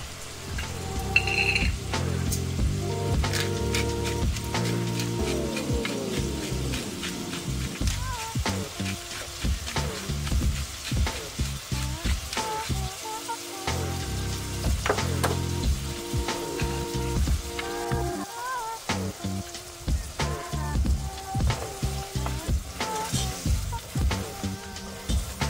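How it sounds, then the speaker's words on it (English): Shrimp sizzling in a pan while cooking: a continuous crackling fry at moderate volume with intermittent clinks and stirring knocks throughout. "While your shrimp is cooking, make sure to show it a little bit of love"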